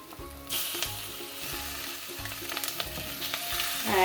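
Boneless meat dropped into a pan of fried onions for chicken curry, hissing into a steady, close sizzle that swells after the first half second and keeps crackling, with the hiss rising again near the end.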